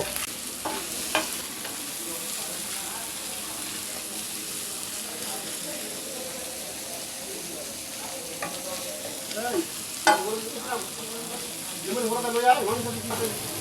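Chanda fish fry in a pan with a soft continuous sizzle and occasional stirring scrapes, while voices talk intermittently over it, louder toward the end.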